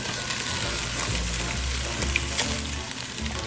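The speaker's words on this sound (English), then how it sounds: "you hear the sizzling in there too" Loud, continuous sizzling and crackling of sauce thickened with slurry frying in a hot pan, close up with no talking.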